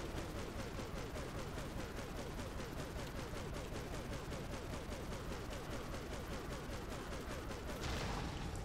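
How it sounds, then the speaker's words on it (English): Rapid gunfire from weapons in Prototype Remastered, a fast continuous stream of shots at an even rhythm lasting the whole stretch, loud and without talk. "And left click is to shoot."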